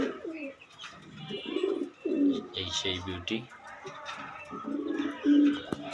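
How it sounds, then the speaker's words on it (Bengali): Pigeons coo close by in low, throaty bursts, repeating through the clip while someone talks over them. "অনেক দামি কবুতর"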